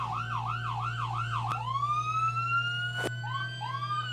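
Sirens from fire, rescue and EMS vehicles rolling through a Christmas parade wail loud and near, with repeated rising-falling yelps giving way to a long sweeping tone over a steady low engine drone, punctuated by two sharp bursts.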